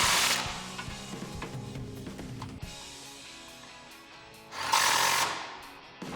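Impact wrench or ratchet tightening the shock absorber bolts with a 16mm socket on an extension on a 2-door Jeep Wrangler JK during a lift kit install, a sustained buzzing rattle that stops, then a second short loud burst.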